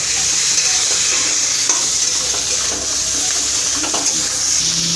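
Fried prawns are stirred into a spice paste in a pan for prawn malai curry, with a loud, constant sizzle close by and occasional soft scrapes from the stirring.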